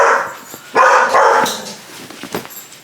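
A dog barks indoors in a small cluttered space, several sharp close barks in bursts over a few seconds, loud and without talk.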